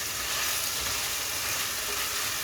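Garlic or onion sautéing in a hot pan for chicken breast adobo, a steady close sizzle and crackle that runs without a break.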